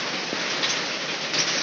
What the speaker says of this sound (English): Yes, it's rain!